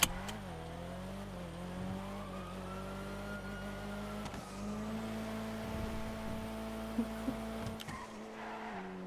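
A car driving and revving hard, its engine note rising and holding steady with brief tire squeals and skids, heard fairly close and continuous with no talking.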